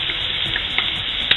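Onion and garlic sizzle in a hot pan for Spanish fideuà, a steady close crackle with a few louder pops and no talk.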